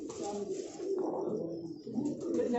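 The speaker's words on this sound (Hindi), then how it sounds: "ये गोल्डन है जी, गोल्डन कबूतर।" A golden pigeon coos softly and close at hand, a low murmuring call held steady over a couple of seconds with faint background noise.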